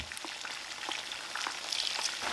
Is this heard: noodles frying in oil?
yes